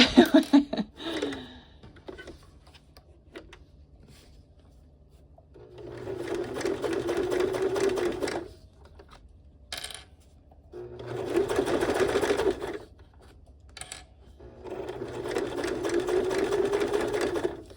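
A sewing machine bastes a pocket onto a sling. It runs in three steady, whirring stretches of about two to three seconds each, with quiet gaps between them where fabric is repositioned.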